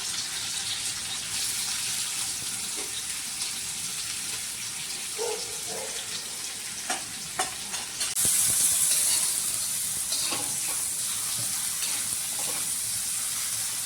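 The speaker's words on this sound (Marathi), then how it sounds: "जिरे तडतडले की त्यामध्ये मी कांदा टाकून घेणार आहे." Steady hiss of onion frying in hot oil with cumin in an iron pan runs throughout, with occasional pops and a brief louder burst of sizzling partway through.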